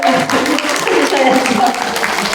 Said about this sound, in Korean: 여러분 이 대목에서 박수 한번